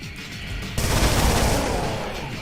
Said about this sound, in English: I'm starting to wonder if the minigun isn't very ammo efficient.